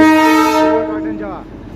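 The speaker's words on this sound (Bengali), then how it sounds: "এখানে একটা টয় ট্রেন যাচ্ছে এবারে কিন্তু অনেকবার টয় ট্রেন দেখছি এটা হলো ডিজেল ইঞ্জিন" A diesel-hauled Darjeeling toy train sounds its horn nearby, one loud sustained blare that holds steady and then fades and drops away as the train moves off.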